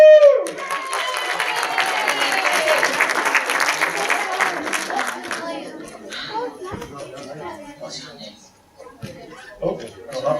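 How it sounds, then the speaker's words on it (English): Applause with whoops and cheering rises from a crowd at a retro-themed live gaming show, loud at first and then thinning into scattered claps, while children and a host talk through the later part. "Applause. Woo!"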